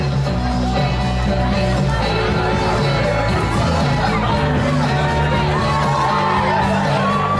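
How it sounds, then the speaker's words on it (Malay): Family and friends cheer and whoop in a loud, continuous crowd roar with children shouting, spread across an indoor mooncake eating competition at Lido, with music underneath throughout. "Sorakan daripada family and friends dia."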